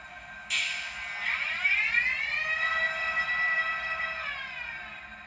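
A loud, steady two-tone model train horn, sounding like Polish train horns, blares for several seconds with a sharp onset and a slight pitch shift, over a low background rumble.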